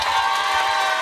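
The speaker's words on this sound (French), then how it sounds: "Applaudissements pour Kev Adams" A studio audience at a radio station claps and cheers for a visiting comedian, a loud, dense burst of crowd noise over about a second.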